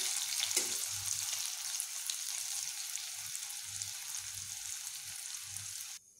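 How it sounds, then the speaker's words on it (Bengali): Salted carrot pieces fry in hot oil in a pan, giving a steady, close hiss of sizzling throughout that cuts off abruptly near the end. "এইবার নুন মিশিয়ে গাজরগুলোকে এইভাবে ভেজে নেব।"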